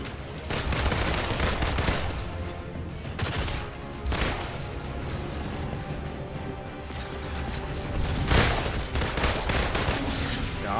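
Sustained bursts of rapid gunfire rattle loudly and almost continuously, with heavy shots and brief pauses between volleys, in the video game Marvel's Avengers.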